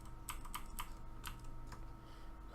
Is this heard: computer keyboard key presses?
yes